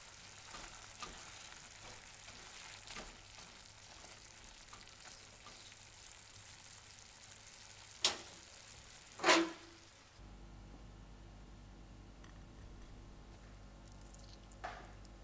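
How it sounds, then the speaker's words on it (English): Chili garlic shrimp with sesame seeds sizzles softly in a pan as it is stirred, with gentle scraping and a couple of sharp knocks midway before a quieter tail. "stir everything together"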